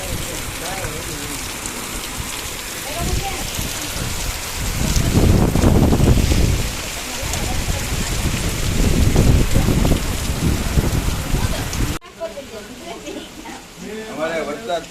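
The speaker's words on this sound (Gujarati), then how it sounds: "અમારે વરસાદ ચાલુ છે." Rain falls outdoors at a family gathering at a farm, a steady hiss with gusty wind buffeting the microphone while people talk throughout.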